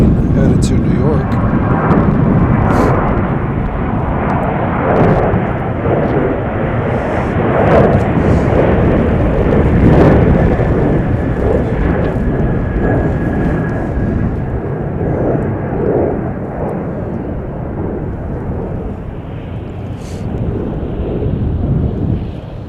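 An airliner jet takes off at Chicago O'Hare International Airport with a loud, sustained roar that swells and slowly fades, the outdoor microphone buffeted by wind.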